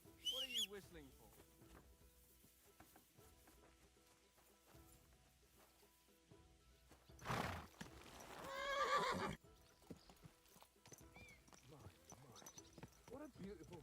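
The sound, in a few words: horse neighing in video game Kingdom Come Deliverance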